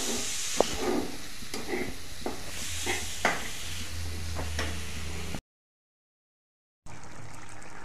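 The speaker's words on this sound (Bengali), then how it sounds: "আমার বোন ম্যাগি বানাচ্ছে" Maggi noodles stirred in a pot of hot water, a continuous bubbling hiss with repeated soft scraping and tapping strokes of a utensil, close by, broken by a short stretch of silence before the simmering resumes.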